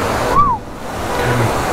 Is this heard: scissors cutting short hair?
no